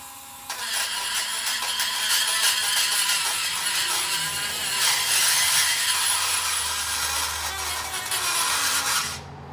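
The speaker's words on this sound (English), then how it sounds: "I'm going to take my little Dremel tool." A small, failing Dremel rotary tool grinding rust off the ears of a car's brake pad seats, a harsh continuous rasping whir up close that holds steady for several seconds before cutting off, with no voices.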